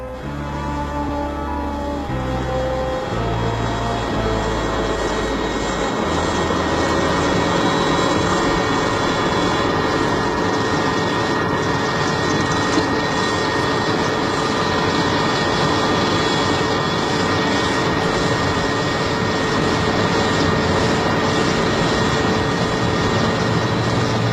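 Military aircraft engines run loud and steady in wartime South Africa as soldiers split into sticks and board their assigned planes. A sustained roar holds for the whole stretch, and no one speaks.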